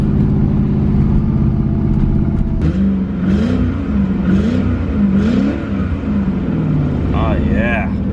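The Chevrolet Corvette ZR1's engine holds a loud, steady rumble, then its pitch swells and dips in repeated revs as the car pulls away, with someone talking over it.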